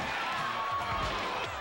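Crowd noise from spectators at a small Alabama wrestling show, a steady broad roar of cheering and chatter filling the room without breaks, moderately faint and continuous throughout.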